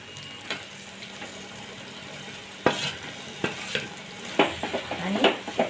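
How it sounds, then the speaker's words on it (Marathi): Fenugreek leaves are stirred into garlic paste and hot oil in a pan, giving a steady sizzle with several scraping stir strokes and light clinks of a spatula against the pan. "तर आता त्याच्यामध्ये आपण मेथी घालूया"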